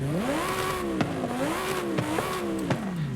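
A Mercedes SL65 AMG Black Series in Forza Horizon 5, engine-swapped to a large V8, revs repeatedly: loud, near engine tones rising and falling in several sweeping pulls with brief sharp shift clicks between them.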